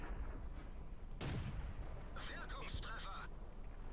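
A tank cannon shot in World of Tanks, a sudden sharp blast followed by a rumbling tail, then more crashing impact noise, with someone talking faintly around it.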